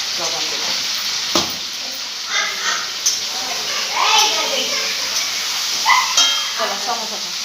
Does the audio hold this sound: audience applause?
no